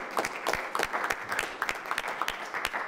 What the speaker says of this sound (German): Begrüßen wir Sie mit einem schönen großen Applaus.